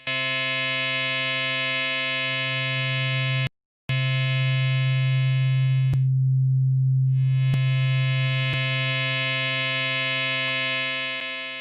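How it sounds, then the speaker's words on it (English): A Eurorack modular synthesizer holds a steady harmonic tone that shifts from pure sine to a brighter wavetable timbre, briefly cutting out once near the start, with a few faint clicks, alone and with no voices. "I can manually crossfade between them. Sine wave to my wavetable."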